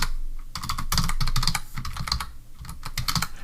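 Rapid typing on a computer keyboard, entering an Angular project command in a terminal, with quick bursts of close, crisp key clicks separated by short pauses.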